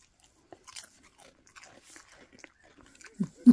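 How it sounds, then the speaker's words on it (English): A dog crunches through very salted crisps, a few sharp crunchy bites spaced out and faint, with the loudest crunches at the very end. "Listen to that crunch."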